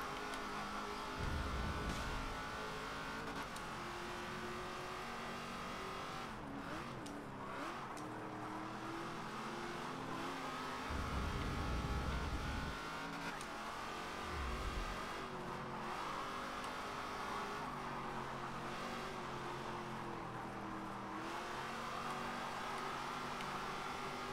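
Race car engines in Forza Motorsport 7 drone steadily through a multi-car lobby race, with rising and falling revs, gear changes and occasional louder passes over a continuous mechanical roar.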